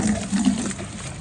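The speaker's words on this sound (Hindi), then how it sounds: "चेक करो पानी की प्रेशर चेक करो, बड़ा अच्छा प्रेशर है जी" Water runs from a tap with good pressure as a bottle fills, giving a steady, close rushing and splashing sound that carries on without a break.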